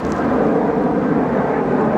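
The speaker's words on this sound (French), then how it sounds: "il y a souvent des avions qui passent de temps en temps" An airplane passes overhead as a steady, broad, rumbling roar that fills the whole moment without fading.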